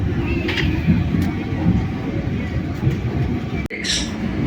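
Inside a KA Matarmaja New Generation passenger train coach, a steady low rumble of wheels and carriage runs throughout, with a brief sharp click and a short hissing burst near the end.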